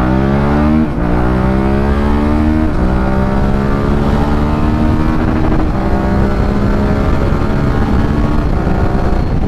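An SVT 650x motorcycle with a new exhaust accelerates hard, its loud engine note climbing steadily in pitch through several gear shifts, close and continuous with no talking.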